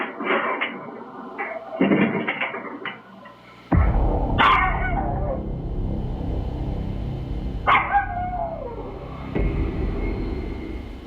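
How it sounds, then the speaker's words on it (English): A dog barks a few times at moderate distance, sharp separate yelps standing out over a steady low background rumble, with no talk heard. "You see him barking"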